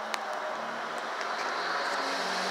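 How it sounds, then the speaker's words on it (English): Busy road traffic outdoors, a steady broad wash of passing cars at moderate distance with a faint click near the start and no talking. "Excuse the noise from the traffic."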